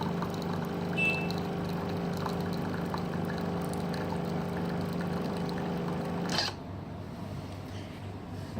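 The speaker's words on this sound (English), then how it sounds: "It will just dispense plain hot water for any hot drinks that you would like to have." A Kalerm Quarza machine dispenses plain hot water with a steady pouring, pump-like hum that cuts off abruptly near the end, leaving a quieter background.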